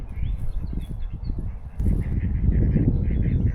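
Ducks quacking and honking by a river, loud and close, a burst of calls followed by a denser run of rhythmic quacks.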